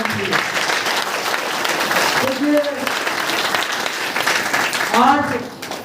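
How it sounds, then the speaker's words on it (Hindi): Loud applause from the audience at a community meeting in Basti, India, steady dense clapping lasting several seconds with voices calling out over it, fading near the end. "और भैया लोगों के लिए जोरदार ताली होती है"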